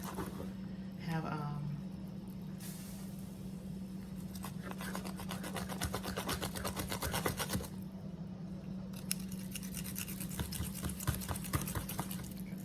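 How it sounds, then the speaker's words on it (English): A serrated knife saws through the bone of an air-fried pork rib in a series of close, rasping back-and-forth strokes, over a steady low hum. "I'm gonna try it with a serrated knife first."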